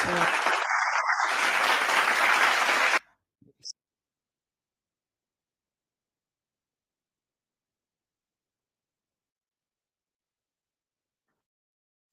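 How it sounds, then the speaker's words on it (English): A round of applause from an audience at a Women's Day event fills about three seconds with dense clapping, then cuts off abruptly into silence. "Let's give them a round of applause."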